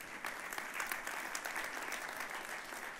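Church congregation applauding together, a steady wash of many hands clapping at moderate distance, continuous for the whole stretch with no voices standing out.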